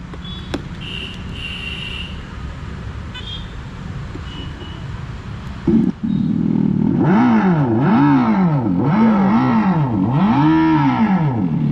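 Simulated engine sound from a Revolt RV400 electric motorcycle's speaker, a loud synthetic tone that rises and falls in repeated swooping waves, following a stretch of outdoor background noise with faint chirps.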